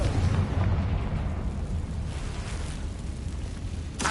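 A Confringo fire spell detonates in Hogwarts Legacy, a loud booming blast with a dense low rumble that sustains for several seconds and a sharp crack near the end.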